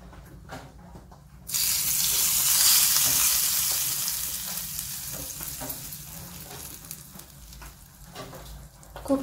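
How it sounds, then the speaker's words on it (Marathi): Hot tempering with asafoetida and turmeric poured over ridge gourd seed chutney, a loud hiss that erupts suddenly and then slowly fades into softer crackling, with faint clinks near the end. "याच्यावर आपण आता ही फोडणी ओतत आहोत।"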